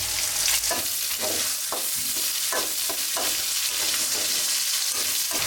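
Garlic and ginger paste fries in oil with bay leaf, black pepper, cloves, cardamom and cinnamon, a loud continuous sizzle broken by rhythmic spatula scrapes and stirring knocks close by.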